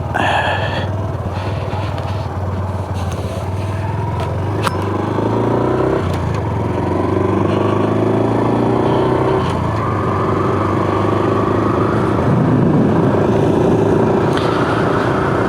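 A Honda Super Cub C125 motorcycle rides on a break-in run, its small engine putting steadily and close, shifting pitch as it moves through gears, with wind rush and a steady loud drone throughout.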